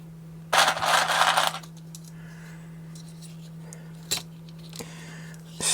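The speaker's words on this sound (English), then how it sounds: "put the keys back on the keyboard." Amiga 500 keycaps pressed back onto the keyboard during a deep clean: a sustained burst of plastic clattering and rattling up front, then a few sparse, sharp clicks against a steady background hum.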